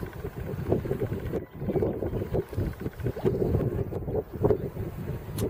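The PJ-17 sailboat moves across the Lauwersmeer in light wind, heard as a steady rush of wind buffeting the microphone along with water noise, loud and continuous throughout.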